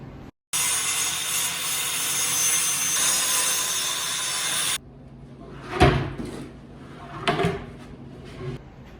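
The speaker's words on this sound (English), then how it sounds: "Well, I don't have a table saw, we got a circle saw though." A cheap circular saw bought for about 28 dollars rips through wood framing for a jon boat to bass boat conversion, one loud sustained cut of about four seconds, then a few clunks and knocks of boards being handled.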